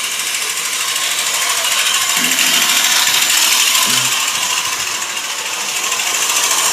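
A 1960s Bandai tin Volkswagen toy runs its mechanism with a loud, continuous buzzing whir and fine mechanical rattle, close up and steady, with a few faint clunks mixed in.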